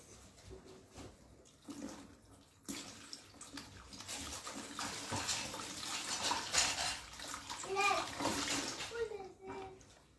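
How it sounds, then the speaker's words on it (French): Hands are washed with water drawn from a bucket, making close splashing and pouring that swells and continues for several seconds, with voices, including a child's, speaking around it. "Ce soir, je mets un seau. Je lave mes mains."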